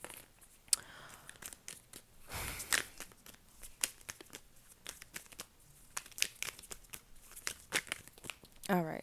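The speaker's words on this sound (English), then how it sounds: "I'm going to pull a few cards and see exactly what's going on in this situation" Soft crinkling, shuffling and snapping of tarot cards being pulled and handled, a quick irregular run of close, faint rustles with a brief flurry near the end and no talk over it.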